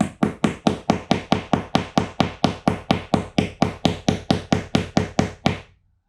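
Rapid, even hammer taps on a wall, about twenty sharp knocks in steady rhythm over six seconds, driving a picture hook in, loud and close with no talk.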